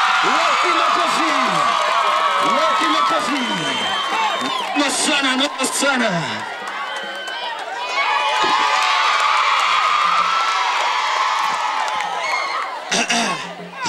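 Festival crowd in Kenya roaring and cheering for an artist at a 2011 music festival, with whoops, shouts and some clapping swelling in two loud waves while a voice briefly speaks over the noise.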